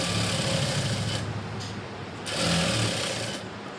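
Sewing machine stitching a blouse, running continuously at close range with a steady fast mechanical whir that swells briefly in speed, no voices.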